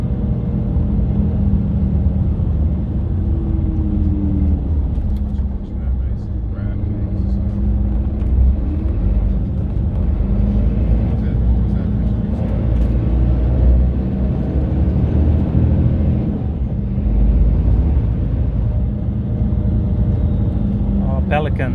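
Steady bus engine rumble and road noise heard from inside a city bus riding from Sollentuna to Solna in Sweden, a continuous low drone with faint cabin rattles throughout.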